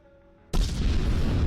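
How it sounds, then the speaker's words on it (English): VOG grenade from Contractors Showdown thrown at a nearby wall and exploding. After a brief quiet moment, a single sudden, loud, close blast erupts, followed by a heavy roaring rumble that holds steady. "let's go ahead and get one of these VOG nades right now, and we're just going to throw it directly at the wall right here in front of us"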